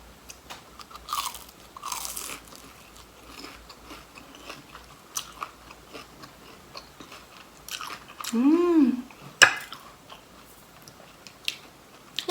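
Crunchy fried Thai chive cakes (khanom kuichai) being bitten and chewed up close, with crisp crackling crunches coming irregularly and a short electronic whistle-like sweep partway through.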